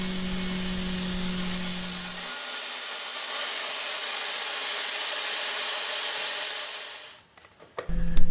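Power saw cutting a piece of plexiglass to size for a candy dispenser build, a loud continuous high whine with a low hum that drops away partway through, then spins down and ends in a few clunks.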